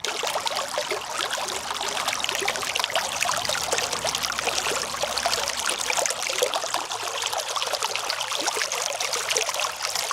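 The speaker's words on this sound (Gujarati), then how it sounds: "નેચરલ ક્રિસ્ટલ પાણી છે, ખલખલ પાણીનો અવાજ છે" A babbling jungle stream of clear natural water rushes and trickles steadily, a dense continuous burbling that stays close and even throughout, with no voices.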